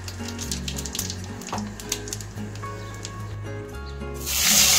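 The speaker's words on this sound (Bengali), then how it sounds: "জিরা, তেজপাতা আর গোটা গরম মশলা ফোড়নে দিচ্ছি।" Cumin seeds, bay leaf and whole garam masala sizzle and crackle steadily in hot oil, a close, continuous frying hiss with a brief louder spatter near the end.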